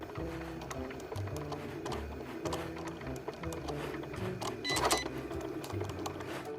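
A Cricut cutting machine cuts an iron-on vinyl design, giving off a steady close mechanical whirring and buzzing with rhythmic motor shifts and small clicks throughout.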